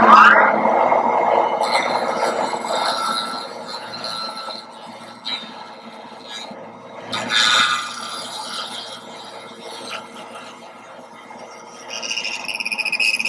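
A carbide lathe tool turning down a fountain pen blank, producing a continuous scraping, squealing cut that rises and falls in intensity, close and fairly loud, with brief pauses.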